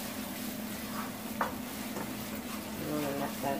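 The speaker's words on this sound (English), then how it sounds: "I'm just letting the onions cook a little saute" Onions sautéing in a pan for shrimp mofongo, a steady soft sizzle running throughout with a few light utensil scrapes and clicks, close by and fairly quiet.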